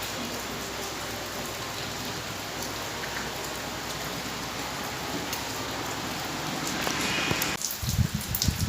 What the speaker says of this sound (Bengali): এই যে বৃষ্টি পড়েই যাচ্ছে পড়েই যাচ্ছে